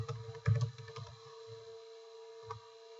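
Computer keyboard typed on to enter a login, a few faint scattered key clicks with a small cluster early on and a lone tap later, over a quiet steady hum.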